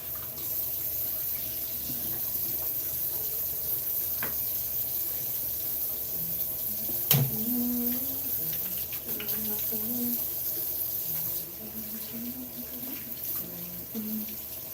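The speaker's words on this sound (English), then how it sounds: "let me wash my hands" A faucet runs steadily into a bathroom sink during handwashing, a constant close hiss of water with a few clinks and a voice speaking faintly over it.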